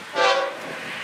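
An FEC train led by a three-unit locomotive lash-up charges past a street crossing, a brief loud tonal blast rising then settling into a rumbling roar outdoors.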